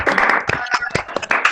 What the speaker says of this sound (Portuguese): desse uma salva de palmas para essa apresentação, esse projeto maravilhoso